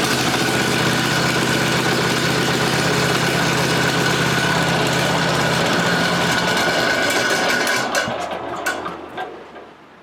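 An old tractor engine being cranked with no compression release, a loud, steady labouring drone with a low rumble that holds for several seconds, then falters and fades after about eight seconds instead of catching, with no voices.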